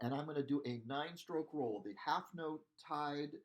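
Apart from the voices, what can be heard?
None of the usual background noises is heard.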